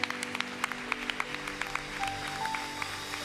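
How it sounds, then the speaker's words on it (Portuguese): Sparse, scattered claps at a church anniversary service, with sharp separate hand claps spread over a low sustained hum, fairly faint and not a full ovation. "aplauda o Senhor"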